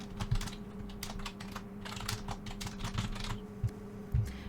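Text is typed on a computer keyboard, a quick irregular run of close, crisp key clicks with short pauses between bursts and a faint steady hum underneath.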